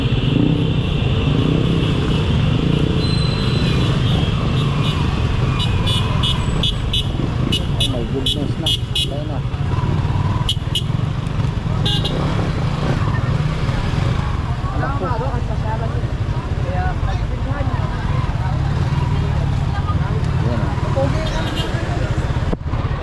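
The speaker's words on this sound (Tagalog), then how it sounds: "Traffic pala kasi may naghihintuan ng mga jeep." Busy road traffic with cars and jeepneys stopping and starting: engines idle and rumble continuously, with occasional horn toots and a brief high whine, while a person talks briefly over the noise.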